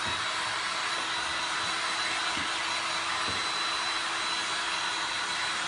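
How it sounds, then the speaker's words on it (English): A handheld dryer blowing steadily on paint over a glass and resin art piece, a loud, constant close whoosh with a faint motor whine and a few light knocks. "All right, so I'm going to dry this real quick."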